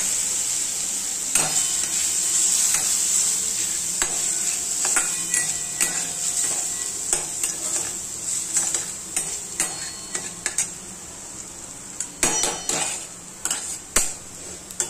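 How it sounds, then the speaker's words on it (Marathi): Homemade masala and red chilli powder dry-roasting in a pan for Kolhapuri misal, with a steady close sizzle and hiss under repeated sharp clinks and scrapes of a spoon stirring against the metal. "घरगुती मसाला, लाल चिली पावडर, हे चांगलं भाजून घ्यायचं"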